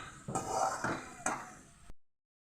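Fried potato cubes being lifted out of a hot pan of oil, with a few close scraping and clinking sounds of a utensil against the metal pan, then silence.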